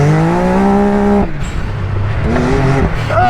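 An off-road vehicle on a dirt track at an off-road park runs hard at full throttle, its engine loud and close with rising harmonic whine, a brief dip in revs, then climbing again.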